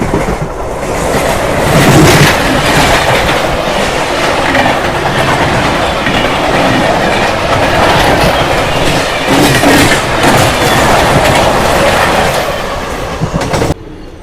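Krishna Express passenger train rolling on rails, a loud close rumble with rhythmic clickety-clack of wheels over joints that continues steadily for the whole stretch.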